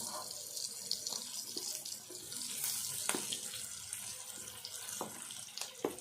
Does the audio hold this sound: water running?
yes